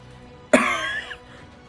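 A narrator voices a single harsh, wet cough imitating a dying man coughing up blood, a short loud burst that trails off after about half a second.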